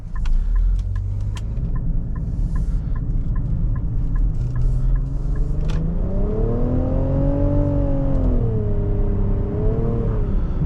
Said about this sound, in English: Oh, that's a lot of boost.